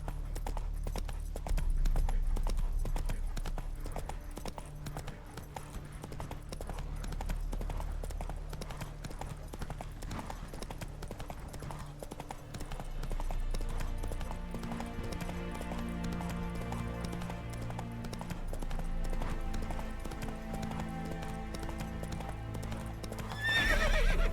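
Horse hooves clip-clop in a steady galloping rhythm under game music in The Witcher 3, with a whinny near the end, mixed with soundtrack tones throughout.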